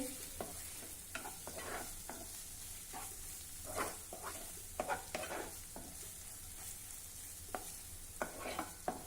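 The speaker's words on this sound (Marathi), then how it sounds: "हे काजूची पूड आणि खोवलेलं ओलं नारळ मी जरा दोन मिनिटासाठी परतून घेतलं" Freshly grated coconut and cashew powder are sautéed in ghee, with a low, gentle sizzle and repeated scraping stir strokes from a spoon against the pan at an uneven rhythm.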